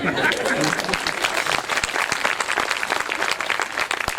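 An audience at a Hindi poetry recital claps in a dense, sustained burst, with voices talking over the applause throughout.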